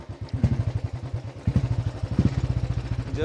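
A motorcycle ridden along a narrow rough footpath, its engine chugging in a fast, uneven pulsing rhythm close by, with clattering bumps and brief throttle surges throughout.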